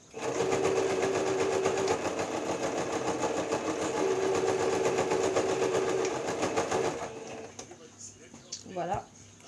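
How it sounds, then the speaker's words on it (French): A sewing machine stitches the side seam of a fabric bag, running in a continuous close whirring hum for about seven seconds before stopping, followed by a quieter moment with a voice. "Maintenant, je vais coudre l'autre côté."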